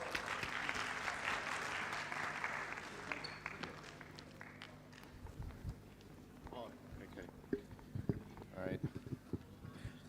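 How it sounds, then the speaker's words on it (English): A festival audience applauds a speaker coming to the stage, sustained crowd clapping for several seconds that fades into scattered claps, footsteps and room noise. "Round of applause"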